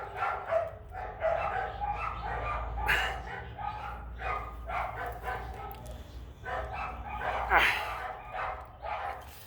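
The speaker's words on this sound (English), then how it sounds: "our neighbor's dog, they're having fun" Neighbor's dogs barking in a residential yard, repeated bursts of barks and yips at moderate distance, mixed with someone talking nearby.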